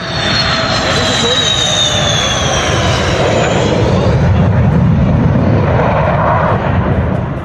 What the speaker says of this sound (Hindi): ये इंडियन आर्मी का सुखोई 30 लड़ाकू विमान है जो आसमान में गरजते हुए एक्सप्रेसवे पर उतरता है